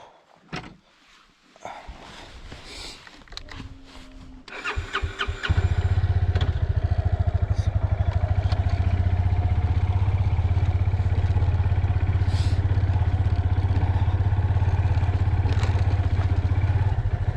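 A motorcycle at a homestay in Jhandi, Kalimpong, cranks with some clatter, then starts and settles into a loud, steady close idle that runs continuously to the end.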